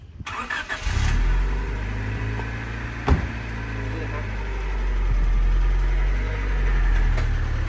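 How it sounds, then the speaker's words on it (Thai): A Honda City Type Z with a factory VTEC engine starts and settles into a steady, low idle heard close up, with a sharp click partway through and a smooth, even rumble afterward. "เดี๋ยวเรามาฟังเสียงของเครื่องยนต์กันนะครับ"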